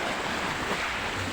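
Choppy, rough sea water churns in a steady broadband wash of waves and surf near the microphone, with some wind noise at a shallow diving spot.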